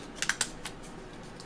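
A piece of paper handled up close, giving a few quick, light crisp rustles and taps near the start that fade into quiet room tone.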